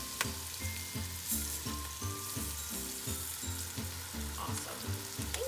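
Rinsed rice frying with onion in oil for Mexican rice, a steady broadband sizzle running through the whole stretch, with a low repeating pulse underneath that sounds like background music; no one speaks.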